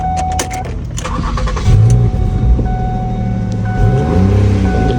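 A 2010 Ford Edge started with a newly programmed key: a short starter crank catches and the engine settles into a close, steady idle, with a few electronic chimes and beeps from the dash early on.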